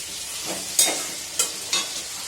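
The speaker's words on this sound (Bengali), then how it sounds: "আর এই যে পুঁই শাক ভেজে নিই, মশলাটা একটু ভেজে নিই।" Spices and Malabar spinach fry in a pan with a steady broadband sizzle, broken by three sharp scraping strokes of a spatula; close and fairly loud, with no talking.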